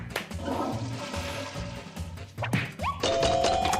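A toilet flushes in a video game with a rushing watery swirl that builds and drains, followed by bright chiming game tones near the end, close and clear with no voices.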